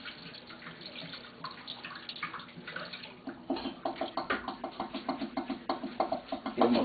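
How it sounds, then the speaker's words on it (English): Cooked noodles for chicken Alfredo are drained under cold running water in a kitchen sink, a steady tap splash with sharper sloshing in the second half. "We're going to drain our noodles out."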